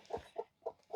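Chickens cluck while being caught, four short, evenly spaced clucks in quick succession, close but fairly quiet, with no other sounds around them.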